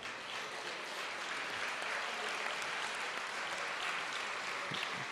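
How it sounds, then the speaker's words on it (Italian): Steady audience applause fills a live event with Paolo Crepet in Italy, a dense, even clatter of many hands clapping at moderate distance, holding constant throughout with no voices standing out. "potremmo salutarlo anche con un applauso allora per il professor Crepè"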